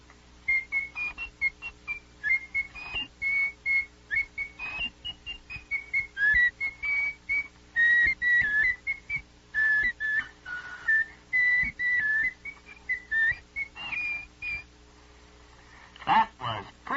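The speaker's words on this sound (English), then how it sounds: "That was pretty good whistling" Someone whistles a lively tune close by, a string of quick bright notes in steady rhythm over a faint background hum.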